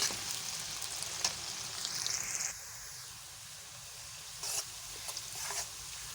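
Onions frying in a pan until lightly brown give off a steady, soft sizzle and hiss, with a few brief louder crackles and stirring noises along the way and no talking.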